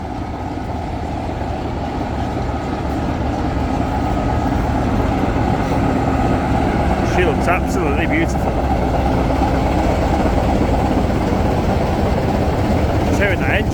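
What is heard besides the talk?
vintage diesel locomotive engine ticking over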